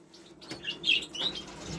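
Pet red mosaic lovebirds and canaries in an aviary give a few short, high chirps over about two seconds, with faint wing flutter, close and moderately quiet.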